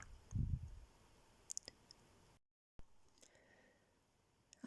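A few crisp, isolated computer mouse clicks, close and quiet, separated by near silence and low background hiss.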